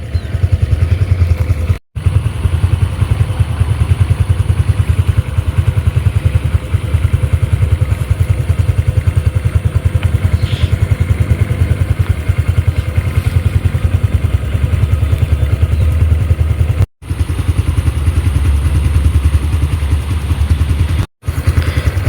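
A Honda Supra X 125 Fi motorcycle engine idles steadily at close range, a loud continuous low putter with light mechanical clatter, broken only by two or three very brief dropouts, and no one talks.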